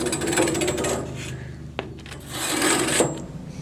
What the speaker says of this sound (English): the easiest way to get them off is to get a stick, just rub it